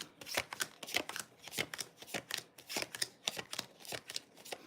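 Tarot cards are shuffled repeatedly at close range, a quick series of crisp riffling flutters in an even rhythm.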